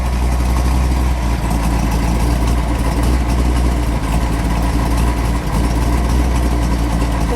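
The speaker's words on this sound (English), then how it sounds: "We'll listen to that idle." A 1969 Ford Mustang Boss 302 V8 engine idles cold with a deep, steady rumble, loud and close, its low throb holding constant throughout, outdoors in snow.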